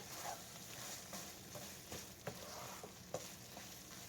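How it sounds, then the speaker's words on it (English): Green onions being stirred into chicken fried rice in a hot pan, with a steady close sizzle under repeated scraping strokes of the utensil, no voices. "I'm going to stir these in real good"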